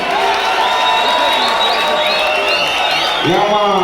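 A concert crowd cheering and clapping for a performer, a loud continuous roar of voices and applause with shouts rising above it and a voice calling out over the noise.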